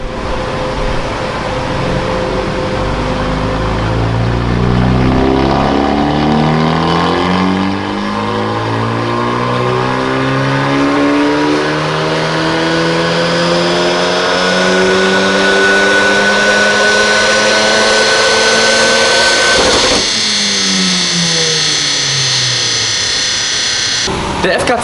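Honda Civic Type-R FK2 turbocharged engine on a dyno, pulling through several rising rev sweeps with gear changes, loud and close, ending in a high-rpm run with a sharp drop-off and a brief re-rev.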